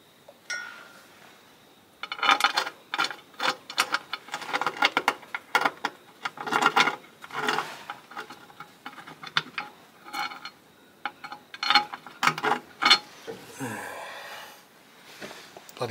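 Nut and washer tightened during reassembly of a Coolpower box with a tip turbine fan, heard as a close, irregular run of metallic clicks and ratcheting taps. Some pauses come between bursts, and a short rasping sweep comes near the end.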